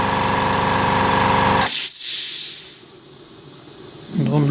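A Carvera Air desktop CNC mill's spindle whines at 12,000 RPM, a steady high-pitched tone that cuts off abruptly partway through, leaving a fading hiss and faint workshop noise.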